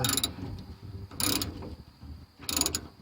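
A hand wrench loosens bolts on the universal joint of a 1972 Chevy Custom 10 pickup, producing three short bursts of ratcheting clicks at close range, separated by quiet pauses.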